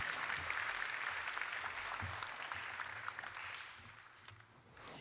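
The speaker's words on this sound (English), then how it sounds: "Another round of applause for our Speech Team Award nominees." Audience applause for speech team award nominees at a school class night, a fairly faint, steady patter of clapping from a crowd that slowly fades.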